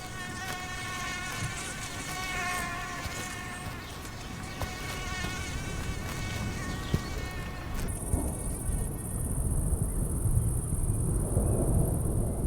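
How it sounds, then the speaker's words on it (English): A dense, steady whine of many buzzing mosquitoes fills the air, continuous and layered, joined later by a higher, thinner insect drone. "For most other animals, however, the swarms of mosquitoes are extremely annoying."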